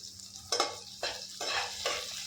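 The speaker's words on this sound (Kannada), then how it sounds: "ಹಸಿರು ಮೆಣಸಿನ್ಕಾಯಿನೂ ಶುಂಠಿನೂ ಫ್ರೈ ಮಾಡ್ಕೊತೀನಿ" Green chillies and ginger fry with a steady sizzle while a spoon scrapes the pan in repeated, closely spaced strokes, near and clear.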